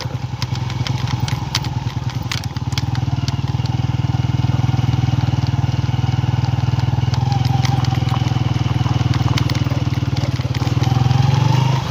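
A motorcycle engine rumbles steadily and loudly throughout, with rattling and clattering from a rough ride, close up.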